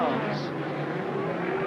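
John Welch's £60,000 rallycross race car, a 1985 British Rallycross Grand Prix final contender, roars steadily in third gear downhill past the paddock turn, loud and continuous under a commentator's voice.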